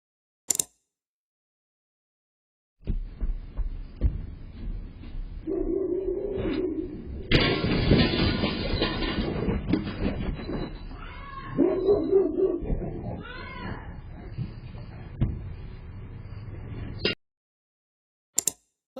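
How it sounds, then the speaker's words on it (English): A dog strikes a glass door with its head after a doorbell ring and breaks the glass. Barking and whimpering come first, then a sharp crash and a loud stretch of commotion that ends abruptly, with no talking. "break this glass with her head"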